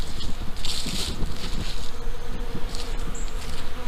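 Bees swarm around pollen feeders hung in a tree, a steady dense buzz of many insects flying close by with no talk, individual wingbeats passing near the listener.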